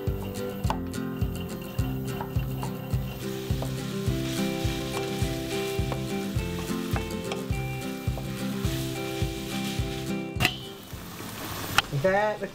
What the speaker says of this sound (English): I'm going to put it in the frying pan and brown it off with the onions.